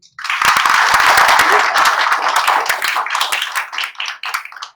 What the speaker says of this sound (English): a big round of applause for Jay